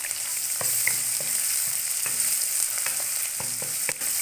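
Onions browning in hot oil with ginger-garlic paste just added, frying for a tinde gosht curry; a steady, fairly loud sizzle with occasional stirring clatter, no talking.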